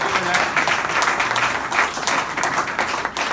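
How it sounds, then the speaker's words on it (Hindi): A crowd applauds loudly and steadily, dense clapping filling the whole stretch with a few faint voices mixed in. "जोरदार तालियां हिंदी माँ के लिए।"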